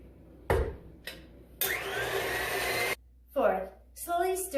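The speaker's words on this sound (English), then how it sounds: "Third, mix your egg whites on high." An electric mixer runs on high beating egg whites, a loud steady whir lasting just over a second, set between short knocks and bursts of speech.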